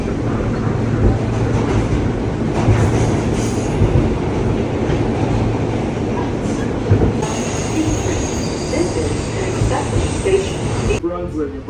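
A train rumbles loudly and close, with a continuous low roar, wheel noise and a high squeal toward the end, and voices faintly under it.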